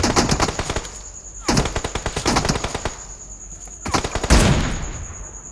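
Rapid bursts of automatic gunfire from the PUBG Mobile battle royale game, loud and close, come in several volleys separated by short pauses, with a heavier shot near the end.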